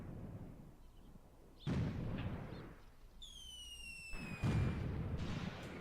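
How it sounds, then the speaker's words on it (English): Artillery shelling in the Graviteam Tactics war game: a couple of dull, distant booming impacts over a low rumbling background, with a few high whistling tones between them. "these guys are getting shelled here as well"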